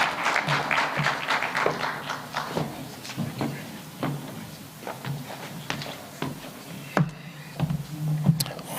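Scattered applause for a speaker at a trade and investment conference, sharp individual claps spread through a hall, starting fuller and thinning out.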